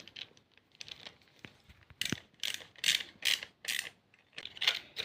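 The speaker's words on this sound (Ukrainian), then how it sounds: "Так, наділи другу викрутку і скручуємо." Hand screwdriver driving screws to assemble a DIY clothes hanger from a hardware store kit: a quick series of close, dry ratcheting clicks in short bursts with brief pauses, no talking.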